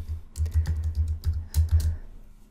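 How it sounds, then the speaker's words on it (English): Keys on a computer keyboard clatter in a steady flurry of close, crisp clicks, several presses in quick succession with no talking. "I just pressed the button end on my keyboard to quickly jump to the end of that line."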